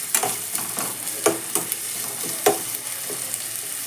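Onions frying in a pan while being stirred: a steady, close sizzling hiss broken by sharp utensil scrapes and clicks at irregular intervals.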